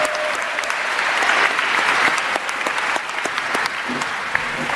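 Sustained applause from a crowd at a school awards ceremony honoring a runner-up All-State team, a dense steady patter of many hands holding fairly level.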